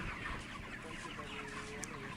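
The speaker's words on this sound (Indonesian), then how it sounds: "memberi makan dan minum ayam." Chickens clucking inside a closed-house chicken coop, a dense, continuous murmur of many birds under steady ventilation hum, fairly faint and ongoing.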